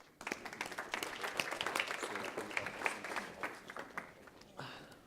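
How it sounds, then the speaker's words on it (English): Applause from a conference audience in Cape Town, dense clapping that holds steady for several seconds before thinning out at the end. "Please give them a warm round of applause."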